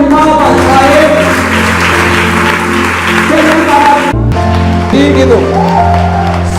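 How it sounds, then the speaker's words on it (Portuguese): A congregation applauds during a church worship service at a regional conference, clapping mixed with music and voices that carry on loudly throughout, with a brief break partway through. "Dá uma salva de palmas a Ele."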